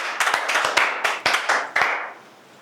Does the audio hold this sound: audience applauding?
yes